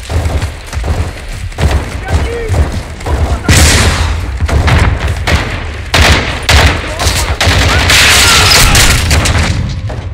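Gunfire and heavy explosions in Call of Duty: Modern Warfare 2, with booming blasts and bursts of rapid shots in a loud, chaotic battle, while voices shout over the combat.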